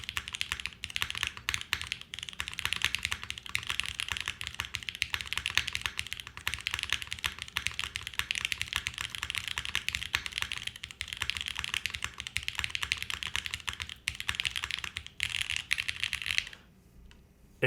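Fast, continuous typing on a Fukuro mechanical keyboard with Yukihana switches and a top-mount PC plate, dense clacky keystrokes close up and loud for most of the stretch, stopping abruptly near the end.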